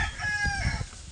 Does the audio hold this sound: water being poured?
no